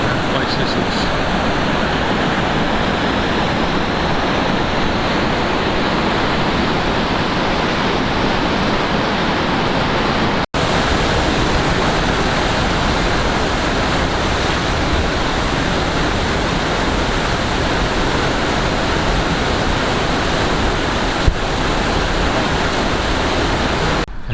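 Paddy's River Falls near Tumbarumba in southern New South Wales, a steady broadband roar of falling water that stays loud and even throughout, with no talk.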